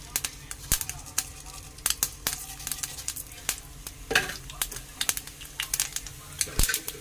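Tempering of dried red chillies and garlic for gongura dal crackles in a pan, with dense popping and spitting bursts in an irregular rhythm and a louder sizzling flare partway through, heard close.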